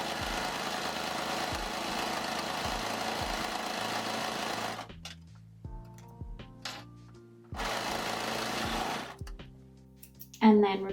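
A sewing machine stitches elastic seams on a beginner's dress, running in a fast steady whir for several seconds, stopping, then running again, with a voice talking over parts of it.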